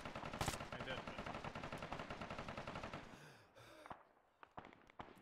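Rapid automatic gunfire in a military video game, a dense burst of close shots for about three seconds, then scattered single cracks and pops further off.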